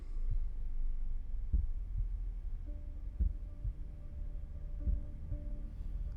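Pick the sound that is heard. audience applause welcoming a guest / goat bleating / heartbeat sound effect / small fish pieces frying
heartbeat sound effect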